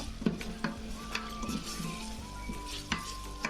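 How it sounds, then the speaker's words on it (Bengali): Ginger-garlic paste frying with onions in a pan, with a continuous soft sizzle broken by sharp spatula scrapes and taps against the metal, close and fairly quiet. "আদা রসুন বাটা দিয়ে আমি ভালোভাবে একটু ভেজে নিব।"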